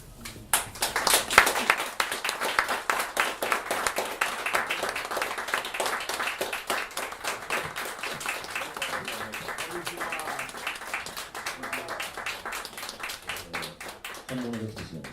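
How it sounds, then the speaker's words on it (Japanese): An audience claps warmly to welcome guests at a Japanese guitar product launch event, a loud burst of applause that settles into steady rhythmic clapping, with some voices underneath. "温かい拍手でお迎えください。"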